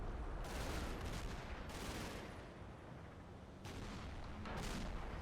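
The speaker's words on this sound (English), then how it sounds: "Got some mortar rounds landing in there as well now." Mortar rounds land in a Combat Mission video game battle. Faint, muffled rumbling blasts come in several waves over a constant low battle noise, heard at a distance.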